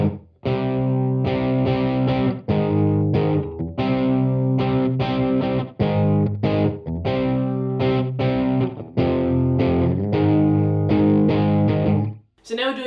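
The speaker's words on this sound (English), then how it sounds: "Now there's one more guitar part that still follows the same chord progression" Distorted electric guitar strums the chord progression in steady, loud rhythmic bursts with brief gaps, played alone with no riff, ending in a short noisy scrape.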